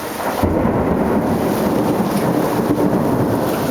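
Thunder rumbles through a lightning storm in LaGrange, Georgia, a loud continuous roar blending with steady heavy rain, no voices.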